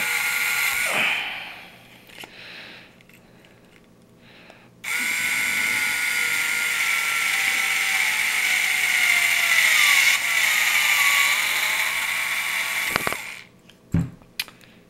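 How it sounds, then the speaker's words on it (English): A power drill with a 13/16 bit bores through plastic, a steady loud whine running for about eight seconds after a short earlier burst, then stopping with a couple of clunks. "now that those two holes are drilled through"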